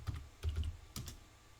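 Several keystrokes typed on a computer keyboard in short irregular bursts while entering a Linux boot loader install command; the clicks are close, clear and have no talk over them.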